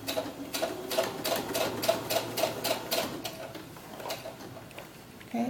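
A sewing machine stitches a doll-sized historical ball gown, running in a quick, even burst of rhythmic ticking stitches that slows and stops, then a faint restart near the end.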